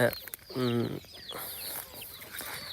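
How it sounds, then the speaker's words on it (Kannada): Chickens on a farm cluck nearby, a short burst of harmonic calls early on followed by softer scattered clucks and chirps over outdoor background noise. "ನೋಡಿ ಕೋಳಿ"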